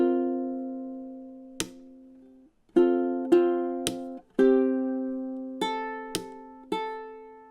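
A ukulele plays measure 15 of a song. Clean plucked notes and chord strikes ring out in a syncopated rhythm of about ten attacks, each decaying between hits, close and alone with no talking.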